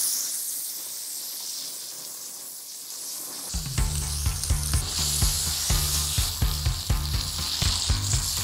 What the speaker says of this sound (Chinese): 铁板上倒一点油，我们先点火开始煎鸡排